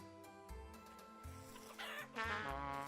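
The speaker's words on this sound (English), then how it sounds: "Are the chickens attacking me?" Chickens in the video game Vintage Story cluck in short repeated bursts, close and fairly quiet, growing busier and louder toward the end as the birds squawk in agitation.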